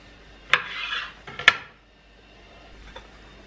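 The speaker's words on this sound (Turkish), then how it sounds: "Bunları da dilim dilim kesip bir fırın kabına yerleştiriyorum." Rolled pieces being sliced and set into an oven dish, giving two sharp clinks near 0.5 and 1.5 seconds with brief scraping after each, then near-quiet apart from a faint tap.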